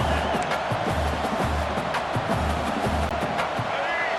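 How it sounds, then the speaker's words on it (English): A stadium crowd in the video game EA Sports College Football 26 roars steadily during a fourth-down play, a dense wall of noise with commentary voices over it. "This crowd busting the decibel meter and trying to will a fourth down stop."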